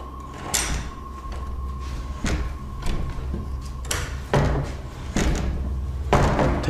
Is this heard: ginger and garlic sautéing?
no